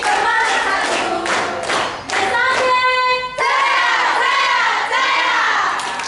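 Applause and clapping from a school crowd at SMPN 1 Kemalang in Indonesia, at a traditional Klinting dance event. Dense, steady clapping runs the whole time, with children shouting and cheering mixed in and a brief dip near the middle.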